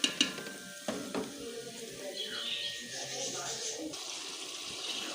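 Spices sizzle in hot oil for matar pulao while a spoon stirs them continuously, giving a steady close frying hiss with a few sharp clinks and scrapes near the start.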